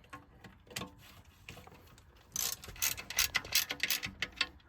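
A ratchet clicks close at hand as it undoes the screws on a transmission oil pan, first in a few sparse clicks, then in quick, louder runs of ratcheting.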